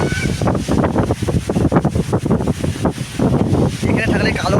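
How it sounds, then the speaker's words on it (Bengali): Strong wind buffets the microphone in an open field, a loud, continuous rumbling roar with gusts, while people talk over it throughout. "এই যে বাতাস করছে, অনেক বাতাস আছে"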